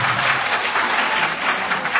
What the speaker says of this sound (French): Applaudissez une fois de plus pour cette chère dame.